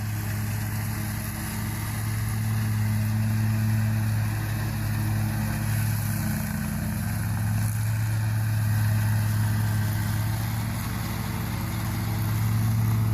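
A large riding lawn mower cutting tall, thick grass runs at a steady drone throughout, its engine hum constant and fairly loud with no pauses.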